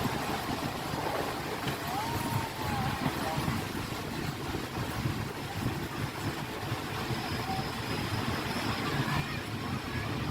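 Thai passenger train 283 rumbles along steadily near Ban Bu Ta Luang station, with low mechanical roar and faint squeals; people can be heard talking over it.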